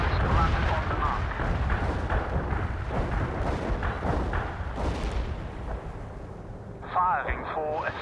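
Artillery barrage in the real-time strategy game World in Conflict, with repeated heavy booms and explosions rolling over a dense battlefield rumble, and radio voices heard over the fire.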